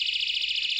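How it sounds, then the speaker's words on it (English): A steel-cable lock alarm sounds its ear-piercing siren: a shrill, rapidly warbling electronic tone, loud and continuous for under a second, with nothing else heard. "It has an ear-piercing siren."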